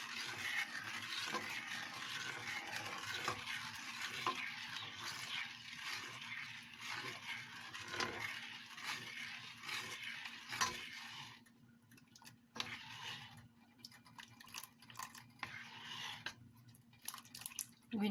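Sugar being stirred into sticky rice for biko, with soft repeated scraping and clinking of a spoon against a pot that fades quieter partway through.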